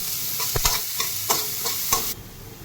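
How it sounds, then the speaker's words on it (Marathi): Onion frying in a pan for a spicy okra dish, a steady loud sizzle with several sharp stirring scrapes and clinks at a loose rhythm, ending abruptly. "तुम्ही बघू शकता कांदा कसा फ्राय झालेला आहे"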